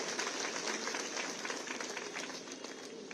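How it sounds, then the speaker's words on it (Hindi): A large crowd at a political rally in Arang, Chhattisgarh, claps in a dense, steady roar that stays loud and even throughout, with no clear voices on top. "ये जो तालियों की गड़गड़ाहट है ना, इससे मुझे राजनीति की गर्मी का पता चल जाता है"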